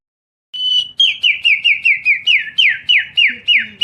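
A white-rumped shama repeats a bright, rising whistled phrase about a dozen times in steady rhythm, loud and close, with faint background chatter.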